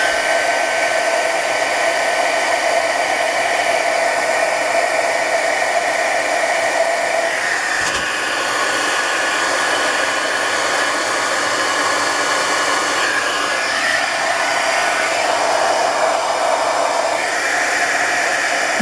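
A hair dryer blows steadily on a craft journal to set freshly applied Mod Podge, a continuous close whoosh with a brief dip partway through before resuming.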